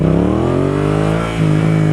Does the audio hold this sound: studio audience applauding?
no